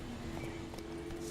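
Horse hooves clip-clop steadily in a Witcher video game, a soft walking rhythm under a faint sustained hum, with no voices.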